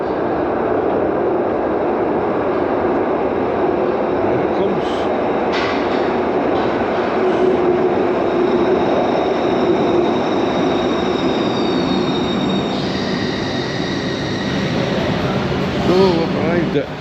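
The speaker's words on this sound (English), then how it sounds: "We are inside the underground subway, and looks like I'm just in time for the train." A Glasgow underground subway train rolls in with a loud steady rumble, faint squealing wheels and rising tones, continuous and close, while a person talks over it.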